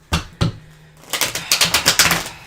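Two sharp card snaps, a brief pause, then a quick rapid riffle of cards flicking together, close and crisp.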